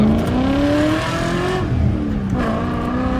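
A 30-year-old BMW V8 engine revs after a Seafoam treatment, loud and close, rising in pitch, easing off, then climbing again in short bursts.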